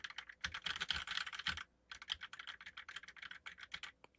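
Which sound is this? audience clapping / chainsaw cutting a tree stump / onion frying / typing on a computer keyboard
typing on a computer keyboard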